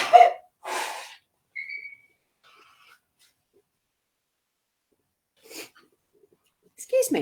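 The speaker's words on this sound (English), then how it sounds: "And I'm going to sneeze in a sec." A single sharp sneeze bursts out close by, followed by a quick second burst and a faint breath, then quiet until brief talk near the end.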